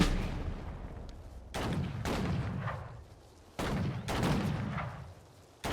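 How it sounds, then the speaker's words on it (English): Gunfire and artillery in the World War II strategy game Sudden Strike 4 during an Operation Market Garden mission, several heavy booming blasts with rumbling decays, spaced a second or two apart, at moderate volume. "Those gun sounds are really beefy actually."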